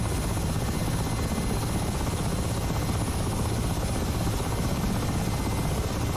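A Mi-8 helicopter taxiing on a runway in the DCS flight simulator game gives a loud, steady rotor and turbine roar that fills the whole stretch without a break.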